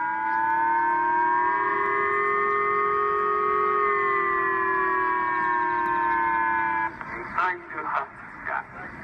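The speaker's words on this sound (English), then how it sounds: "Millions of Japanese woke up to the sound of blaring sirens and emergency phone alerts" Loud, sustained Japanese civil defense sirens wail with steady rising and falling tones during a missile alert, then a burst of broken, irregular sounds near the end as the siren cuts off.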